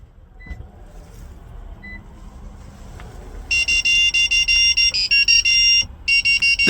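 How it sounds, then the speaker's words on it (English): A 2016–2017 Lexus IS 200t sounds a rapid series of high, electronic beeps in quick pulses after a quieter stretch, confirming that key fob programming is complete. "wait for a few seconds until you hear the beeping sound indicating programming is successful."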